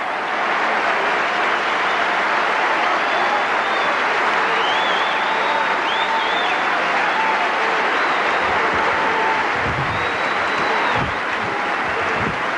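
A stadium crowd of 23,000 applauds steadily at the US Open men's tennis final in New York, broad sustained clapping with faint whistles and calls over it, with no talk.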